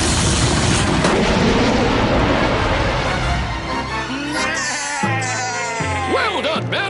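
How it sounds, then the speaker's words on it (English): A small cartoon rocket blasting off, a loud roaring whoosh that fills the clip and slowly thins out, followed by playful warbling effect tones near the end. "3, 2, 1! Blast off! That's it, little rocket."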